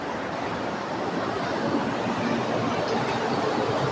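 Water rushing and crashing in a steady, dense roar, loud and close throughout with no breaks.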